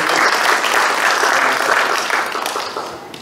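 Dense, steady applause from an audience at a district awards ceremony honoring local personalities, filling the whole stretch at close range and easing slightly toward the end.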